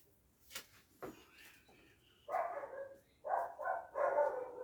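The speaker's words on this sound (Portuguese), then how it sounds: "esses cachorros aqui não vai deixar, vai atrapalhar muito a transmissão" Several dogs bark outdoors, a few scattered distant yaps followed by bursts of louder, closer barking in quick clusters.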